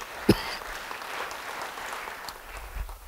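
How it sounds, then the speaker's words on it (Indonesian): A church congregation applauds during a sermon, a soft, diffuse wash of clapping at a distance with one sharper knock near the start, no voices heard. "Yang percaya, beri tepuk tangan bagi dia."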